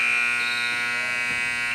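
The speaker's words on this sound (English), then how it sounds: "Nia Perkins half-court shot at the buzzer misses." A loud, steady electronic buzzer sounds for the whole moment at the end of the first half of a high school basketball game in a gym, drowning out the crowd.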